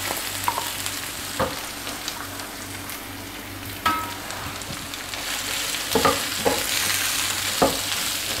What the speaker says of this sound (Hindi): अब अनियंस को सिर्फ 1 मिनट के लिए, 1 से 2 मिनट के लिए हम फ्राई करेंगे